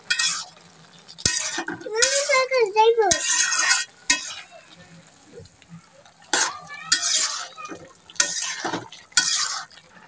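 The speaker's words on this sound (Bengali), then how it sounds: "ঢাকনা খুলে একটু নেড়ে চেড়ে দেবো।" Spinach and vegetable curry gets stirred in a pot in several bursts of scraping and clinking, with a soft sizzle between strokes and a brief metallic squeal near the start.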